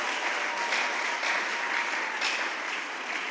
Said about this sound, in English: Let us give a big hand clap to the Iman Milele